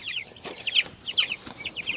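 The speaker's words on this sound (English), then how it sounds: "These are called Cornish cross chickens." Many young Cornish cross meat chicks cheep together in a brooder: a dense, overlapping chorus of high peeps, soft and steady at moderate distance, without any voices over it.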